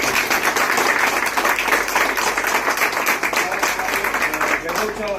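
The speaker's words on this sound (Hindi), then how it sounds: "पहले तो जोरदार ताली हो" Enthusiastic applause from a crowd, dense continuous clapping lasting several seconds, loud and close.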